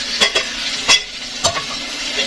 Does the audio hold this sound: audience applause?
no